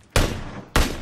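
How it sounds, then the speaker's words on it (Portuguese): Two sharp gunshots ring out about half a second apart in PUBG Battlegrounds, each a loud broadband crack trailing into a lingering echo, with no talk over them. "Eu errei todos os tiros, mano."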